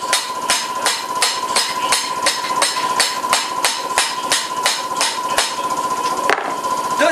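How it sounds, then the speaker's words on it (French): A cobbler taps the arch of a shoe with a hammer, a loud, steady series of sharp close knocks at an even rhythm, about two per second. "Tapez la cambrure au marteau."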